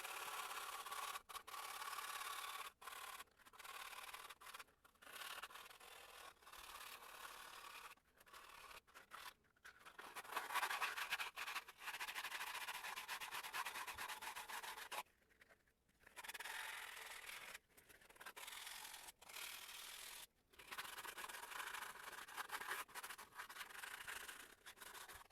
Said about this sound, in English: now the next step is definitely to sand this down because it's a little sharp and rigid